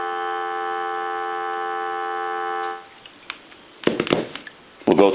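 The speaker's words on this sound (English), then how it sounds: "Give you some dial tone." A Western Electric Princess touch-tone desk telephone gives a steady, close dial tone for nearly three seconds, then it cuts off, followed by a few handling clicks and a couple of short touch-tone or clunking bursts.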